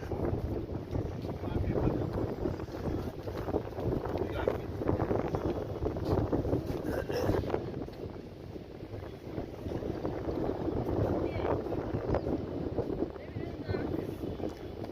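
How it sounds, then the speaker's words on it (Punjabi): A steady wind rushes against the microphone with no break, a dull broadband roar that never lets up, at Ram Jhula in Rishikesh. "ਠੰਡੀ ਠੰਡੀ ਹਵਾ ਚੱਲਦੀ ਹੈ"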